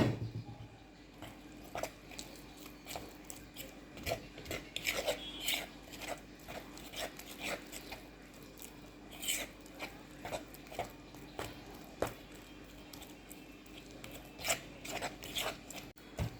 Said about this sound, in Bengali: এবার আমি হাত দিয়ে মাখাচ্ছি, কাঁটা চামচ দিয়ে আর হচ্ছে না